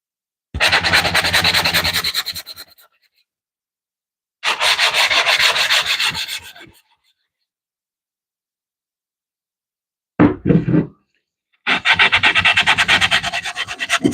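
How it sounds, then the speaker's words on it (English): Wood being sanded by hand gives off long, close, rasping strokes in three sustained bursts separated by silence, then a short scrub and one more extended pass, with no talking. "And I'll just try to sand those by hand without having to get out the belt sander again."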